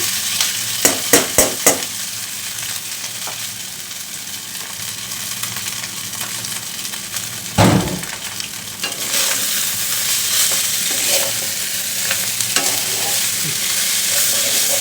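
Boiled noodles are stir-fried in a hot pan, a steady sizzle that runs throughout, broken by sharp clanks of a utensil against the pan near the start and once more midway.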